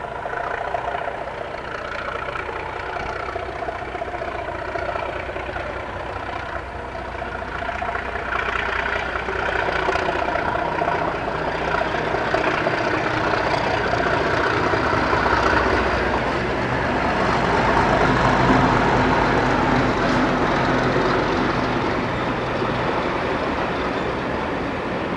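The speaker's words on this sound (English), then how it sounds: "this is Newport, where 37154 leaves with the 1130 Bristol to Cardiff" A British Rail Class 37 diesel locomotive, 37154, pulls away from Newport station with a Bristol to Cardiff passenger train. The engine drones loudly and steadily throughout and builds slightly as the train gets under way, with no voices.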